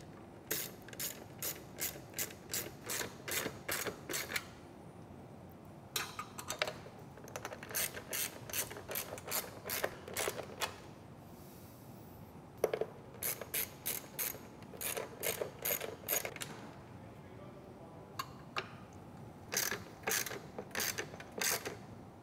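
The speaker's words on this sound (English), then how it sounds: "you simply use the same screws that you've got supplied with the Commander to mount, using your standard 10mm socket here to connect" Ratchet socket wrench with a 10mm socket tightening screws to mount an extruded rail onto a Commander Extreme operator, rapid clicking pawl bursts in repeated runs separated by short pauses, close and clear with no talk.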